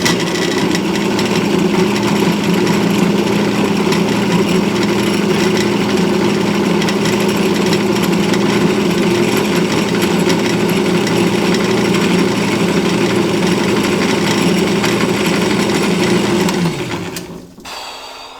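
A drill press drilling metal with cutting oil whines steadily at close range with a grinding, rattling drone, then spins down and stops near the end.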